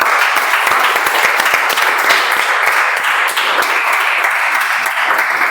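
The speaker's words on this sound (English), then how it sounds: "Can we have a round of applause?" Dense applause from a meeting audience fills the whole stretch, many hands clapping steadily and loudly without pause.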